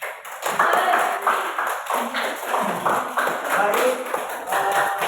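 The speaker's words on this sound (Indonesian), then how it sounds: "Tepuk tangan untuk kalian semua." Classroom group applauding students after their reading, a short burst of close, uneven clapping with a voice talking over it.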